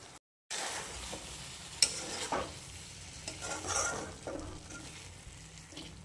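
Prawns simmer down in a pan with pepper powder, green chillies, coriander and curry leaves, giving a quiet sizzle punctuated by several close spoon scrapes and one sharp clink, with no talking.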